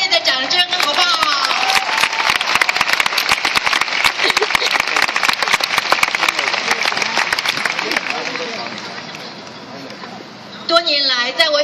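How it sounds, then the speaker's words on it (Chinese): Warm applause from a large outdoor rally crowd of thousands, dense clapping and cheering swelling for several seconds before fading, with a voice speaking over the end. "请大家给自己，给我们自己一个热烈的掌声好不好"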